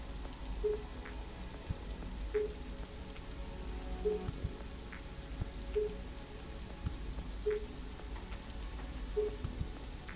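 Steady rain patters softly on a surface in the video game The Riftbreaker, a continuous fine hiss with faint drips, while a small electronic beep repeats at regular intervals.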